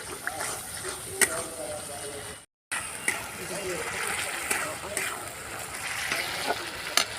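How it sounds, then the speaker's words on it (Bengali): Spice paste sizzles and sputters in a pan as it is sautéed for a papaya and potato curry with chickpeas, a steady crackling hiss with occasional stirring scrapes and a brief dropout, while someone talks over it. "মশলাটাকে ভালো করে কষাতে হবে"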